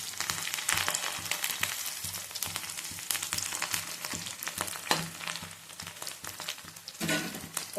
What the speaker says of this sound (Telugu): పచ్చిమిర్చి అంతా కూడా వేగుతుంది కదా.